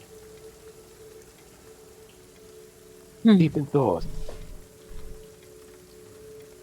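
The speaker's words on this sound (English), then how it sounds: "I was just listening to the rain." Steady rain falls softly throughout a tabletop role-playing session, a faint continuous patter heard under a brief spoken line.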